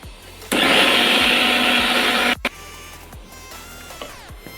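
A mixer grinder grinds onions, tomatoes and ginger in a loud, close whirring burst of about two seconds, then cuts off abruptly, leaving a quieter hum with light clicks.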